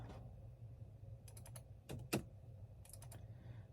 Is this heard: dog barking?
no